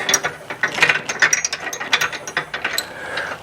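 A hand ratchet clicks rapidly in short, uneven bursts while tightening a lock nut on a hitch anti-rattle clamp, close and loud with no talk.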